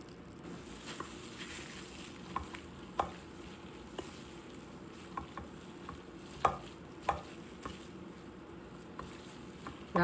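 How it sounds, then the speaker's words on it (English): Tuna melt filling with sprinkled sugar being stirred in a bowl, a soft continuous scraping and patter with scattered sharp clicks of the utensil against the bowl, close and moderately quiet, no talking. "Then we're gonna go ahead and mix it."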